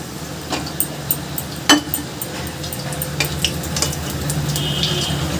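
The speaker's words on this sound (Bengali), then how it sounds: "এবার আমি কাঁকরোলগুলোকে তুলে নিচ্ছি" Battered teasel gourd (kakrol) slices fry in oil in a pan while pieces are lifted out, giving a steady soft sizzle broken by a few sharp clinks and scrapes of a utensil against the pan.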